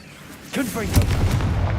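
In the Hogwarts Legacy video game, a Confringo blast spell detonates with a heavy booming explosion just after the start. A second punchy crack follows, then a rumbling fiery tail, with a voice calling out over it.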